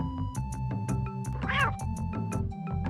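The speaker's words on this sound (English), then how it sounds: "That little cat roar is literally what they used for the soundbite." A small cat's roar, used as the roar of the lion cub Simba in a video game, rises as a short snarling meow midway through a steady beat of game music with rhythmic percussion.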